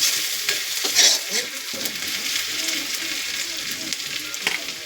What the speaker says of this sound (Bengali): পেঁয়াজ দেওয়া হলো বন্ধুরা, গরম তেলে পেঁয়াজ দেওয়া হলো।